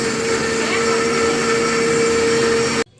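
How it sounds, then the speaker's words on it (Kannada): A household mixer grinder (mixie) runs steadily and loudly with a constant high whine and whirring hum, then cuts off abruptly near the end. "ಯಾವತ್ತಿಗೂ ಮಿಕ್ಸಿ ಆನ್ ಮಾಡ್ತೀನಿ ಅಂದ್ರೆ ಪಿಕಪ್ ತೊಗೋಬೇಕು"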